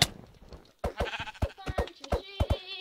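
Sheep bleating in Minecraft with the Jurassicraft mod, a series of short bleats after a brief pause, with people talking over them.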